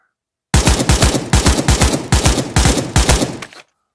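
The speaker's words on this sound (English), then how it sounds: "So I will do some short control bursts, then we'll go to single fire." A rifle in the VR game Pavlov Shack fires in short controlled bursts, about six loud close clusters of rapid shots in even rhythm, then silence.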